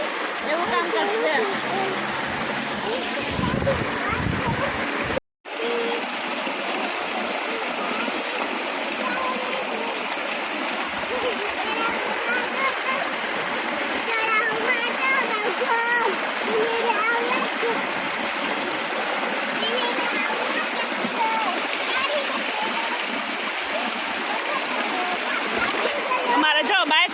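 Continuous water splashing and sloshing as children play in a small family swimming pool at a farm, steady and close, with children's voices mixed in throughout.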